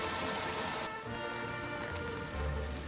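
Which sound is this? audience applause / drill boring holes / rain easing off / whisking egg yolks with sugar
rain easing off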